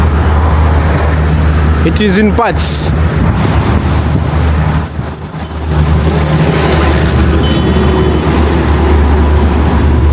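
Dense, steady roar of a Moscow summer traffic jam with trucks and buses, loud and continuous throughout, with a brief hiss near the start as a person talks over it.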